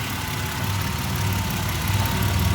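A 2007 Ford Explorer Eddie Bauer's 4-liter engine runs smoothly at a steady idle, a continuous close low hum with no talking.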